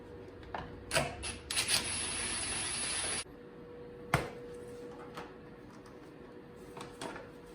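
A socket ratchet clicks in quick bursts while loosening 10mm bolts on the cover of a 2021 CFMOTO Cforce 600 Touring ATV, followed by a sharp metallic knock and a few faint clicks.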